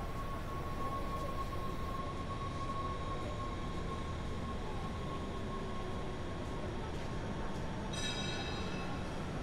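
A train pulls into a large station on the outskirts of Amsterdam, a steady loud rolling rumble with a thin, sustained wheel squeal running through it and a brighter metallic rise near the end.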